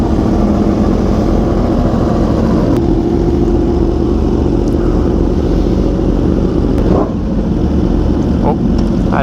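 A Yamaha R1M and a BMW S1000RR motorcycle sit with engines running, a loud continuous rumbling drone with slight rev swells and a few sharp clicks, heard close up with no pause throughout.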